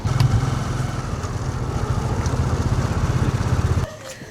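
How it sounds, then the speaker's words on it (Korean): A motorcycle ridden by a woman rumbles close by with a steady, buzzing engine drone that cuts off abruptly near the end, leaving quieter background. "장환 씨가 오토바이를 타는 장모님을 따라 나섰다"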